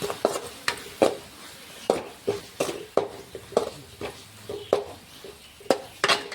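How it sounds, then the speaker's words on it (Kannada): Vegetable palya being stirred with jaggery in a pan, giving a series of scraping, clinking strokes in an uneven rhythm over a faint sizzle, close and fairly clear, with no talking. "ಸ್ವಲ್ಪ ಬೆಲ್ಲ ಹಾಕ್ಕೊಂಡು ಇದನ್ನು ಒಂಚೂರು ತಿರುಗಿ ತೊಗೊಳೋಣ"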